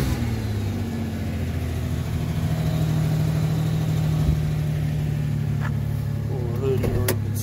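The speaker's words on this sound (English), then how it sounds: "Motor sounds real good." A 1998 Ford Ranger Supercab 4x4 with 188,000 miles sits idling, its engine giving a steady, close, low hum throughout, with a few brief clicks and a squeak near the end.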